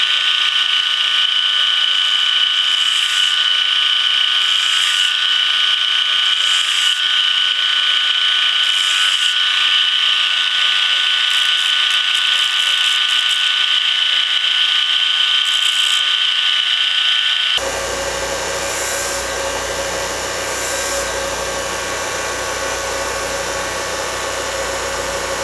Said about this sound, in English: Trying to grind on it very evenly and run at the same rate up that grinder.